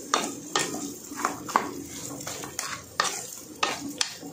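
Ginger garlic paste and tomato frying in a pan, stirred with a metal spoon that scrapes and clacks in a regular rhythm, a soft sizzle running underneath, close and fairly quiet.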